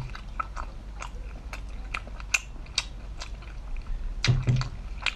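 Close, crisp biting and chewing of spicy seafood such as octopus, lobster tail and king crab, with repeated wet crunches and smacks in an irregular rhythm, louder squishy bites near the end, no talk.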